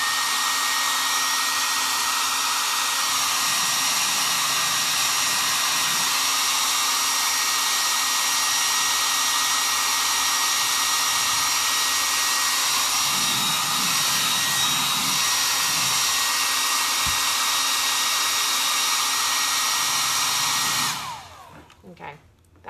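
A hair dryer blows loudly and steadily at close range with a constant whirring roar, switching off near the end.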